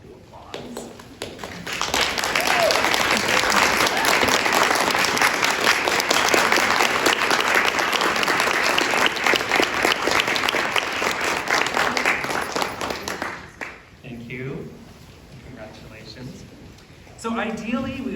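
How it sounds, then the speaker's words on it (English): A seated audience at a university libraries student employee scholarship reception breaks into sustained applause for the standing scholarship recipients, dense steady clapping for about eleven seconds before tapering off, with voices briefly heard afterward. "give you a round of applause"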